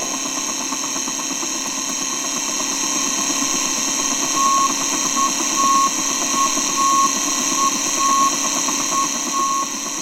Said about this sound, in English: The beeping you heard was the approach beacon from Oakland International